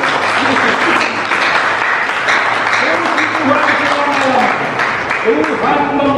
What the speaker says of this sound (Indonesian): Tepuk tangan yang meriah buat Tuhan.